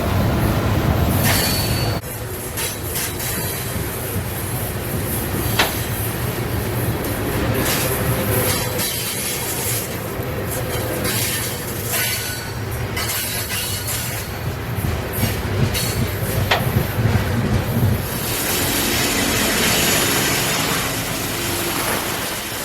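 A freight train rolls past on the W&A railroad with a loud, continuous rumble of wheels and rail clatter, its cars passing close by for the whole stretch with no talking.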